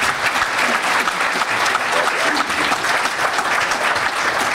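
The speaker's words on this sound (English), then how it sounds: "Please give some applause to Tim Deans." A crowd applauds at the EMS Day on the Hill opening ceremony, honoring recipient Tim Deans; dense, steady clapping from many hands fills the room evenly throughout with no break.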